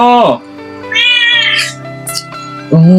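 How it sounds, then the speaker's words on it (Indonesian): A cat meows loudly and insistently up close, several drawn-out, wavering cries in a row. "Cuma melihat kucing berisik"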